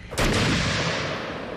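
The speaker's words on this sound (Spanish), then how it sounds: "superar el estruendo de los disparos" A single loud gunshot cracks out at a military firing range, with a sharp onset and a long rumbling echo trailing off behind it.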